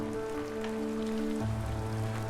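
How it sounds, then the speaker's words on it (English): Water pours down from a waterfall onto a vehicle passing beneath it on Death Road in Bolivia, a steady hissing rush like heavy rain over a low engine hum, with a shift in the engine drone partway through. "About to go under a waterfall."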